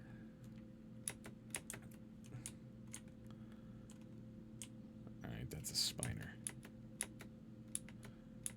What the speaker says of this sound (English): It can hear your keyboard?